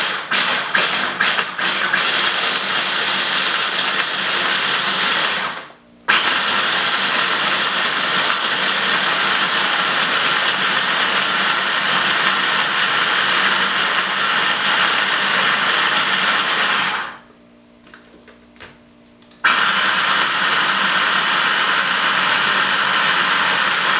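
A blender pulses nuts into a Parmesan-style vegan cheese powder, a loud, steady whirring roar broken by two brief pauses, one short and one longer, before running again.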